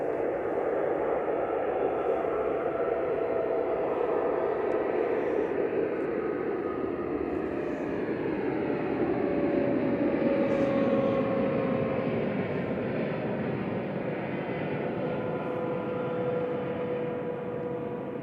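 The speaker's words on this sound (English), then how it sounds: "787-8 departing now." TUI Boeing 787-8 jet departing Manchester Airport, a steady broad roar heard from a distance with a faint tone slowly drifting downward as it climbs away, and no voices.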